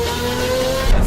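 Lamborghini Aventador SVJ with a 6.5-liter naturally aspirated V12 holding a loud, steady high-rev exhaust note, close and continuous, swelling slightly at the end.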